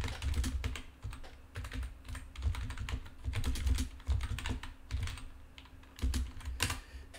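Close, steady clatter of fingers typing on a computer keyboard, uneven bursts of keystrokes running throughout with brief pauses and no voices.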